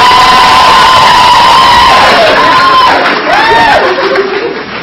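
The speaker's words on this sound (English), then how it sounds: "Let's give one big round of applause to your friends and family." A loud crowd at a nursing pinning and commencement ceremony cheers and shouts, with whoops and excited voices rising over a dense roar of clapping and noise.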